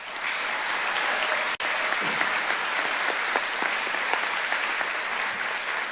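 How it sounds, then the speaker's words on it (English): Steady applause from a large audience at a high school honors ceremony fills the whole stretch, dense and even, with one brief dropout partway through. "Please give these students a well-deserved round of applause."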